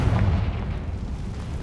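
A Confringo blasting spell explodes in Hogwarts Legacy on PS5, a loud, deep rumbling burst that fades into a low, sustained roar.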